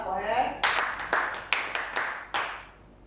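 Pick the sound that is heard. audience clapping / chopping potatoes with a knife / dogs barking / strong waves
audience clapping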